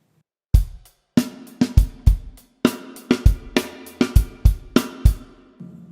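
A drum kit plays the opening two bars of a song, with sharp, loud, evenly spaced kick, snare and cymbal hits in a driving rhythm, heard alone.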